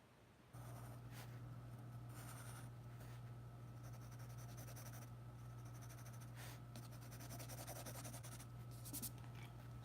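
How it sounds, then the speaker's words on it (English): A pencil sketching on paper in a small studio, producing faint, continuous scratchy strokes over a steady low hum, quiet and close with no talking. "So draw it light until you get it right."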